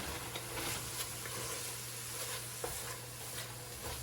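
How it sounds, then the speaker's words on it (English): A spoon scrapes the bottom of a pot of rabbit jambalaya, giving quiet, scattered scraping strokes over a soft, steady sizzle with no talking. "You want to scrape anything you got on the bottom up if you got anything down there."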